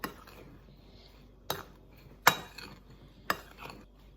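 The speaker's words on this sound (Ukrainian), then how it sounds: "Добавляємо цукор, крохмаль, щоб не витікав сік, і перемішуємо." A spoon clinks against a bowl while fruit filling is stirred with sugar and starch. Four sharp, close clinks come at uneven intervals over soft scraping, with quiet between them.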